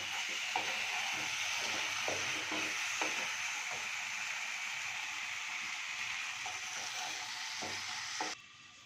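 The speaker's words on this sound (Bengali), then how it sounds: "এবারে সবগুলোকে একসাথে মিক্স করে নেব।" Moong dal curry ingredients with a little sugar stirred and mixed in a hot pan, a steady sizzle with scraping spoon strokes recurring every second or so, close and continuous until it drops away at the end.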